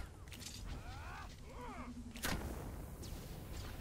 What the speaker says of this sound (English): let's go ahead and hit you with a concussion missile